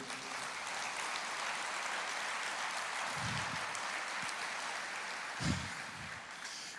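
A church congregation applauds with steady, dense clapping that holds at an even level throughout. A few low thumps stand out partway through.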